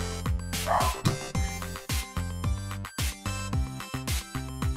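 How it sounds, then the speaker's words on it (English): Several dogs bark nearby in a fast, repeated volley of loud woofs and yips, barks overlapping in uneven bursts, with no talking. "Dogs are barking, sorry."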